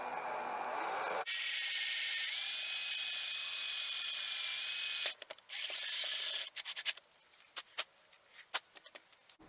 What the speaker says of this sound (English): the goal here is to drill a roughly 5/16 hole just off center without hitting the plastic pickup tube inside